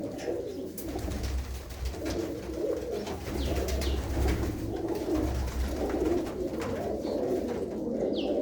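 Pigeons cooing in a loft, soft low repeated coos overlapping steadily from several birds nearby, with occasional faint chirps and rustling and no talking.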